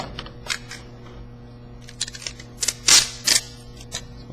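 Tape tears and presses onto a glued wood joint surface in a woodworking shop, with sharp crackling pulls clustered near the end over a faint steady hum.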